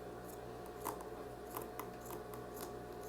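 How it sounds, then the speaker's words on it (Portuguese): Scissors snipping a straight edge along fabric scraps for a patchwork rug, a series of quiet crisp cuts in an irregular rhythm, close but faint, with no talk. "primeiro você vai ter que cortar um lado retinho"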